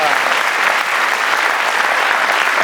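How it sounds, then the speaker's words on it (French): Loud, dense applause from a small gathered group in a room, continuous and close throughout with no pauses or voices on top. "il est là, il s'auto-applaudit, il est content."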